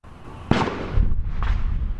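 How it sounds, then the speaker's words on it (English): Construction blasting for a sewer tunnel in Greenville sets off one sharp, loud boom, followed about half a second later by a deep thud and a rumbling tail, with no one speaking. "It'll be a boom and then a thud."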